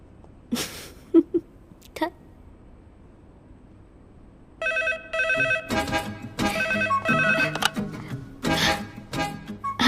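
A phone rings in a Bhojpuri film scene, its bright repeated trills starting partway through and continuing loudly over people talking.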